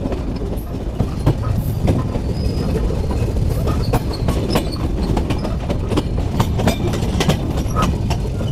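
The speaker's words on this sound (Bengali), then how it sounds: "চলুন দেখে নেই ট্রেন এক লাইন থেকে আরেক লাইনে কিভাবে শিফট করে।" A train rolls over track joints at Majhgram railway junction, switching lines with repeated clicking and clattering, wheels screeching faintly as it crosses points, loud and close throughout.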